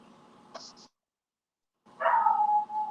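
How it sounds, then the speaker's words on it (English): A neighbor's dog barking outdoors: a short muffled bark, a gap of silence, then a louder yelping bark trailing into a whine, moderately close. "No, man, that's my neighbor's dog."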